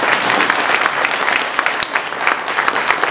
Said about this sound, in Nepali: उहाँलाई फेरि एकपल्ट ताली बजाएर देखाउनु पर्छ।